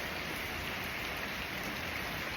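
Heavy monsoon rain pours down in a dense, even hiss that stays loud and unbroken throughout, with no voices.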